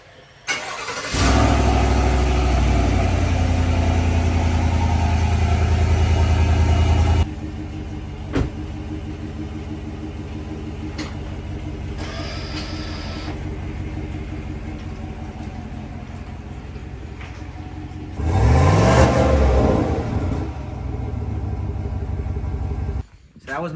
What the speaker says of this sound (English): So that was my stock exhaust.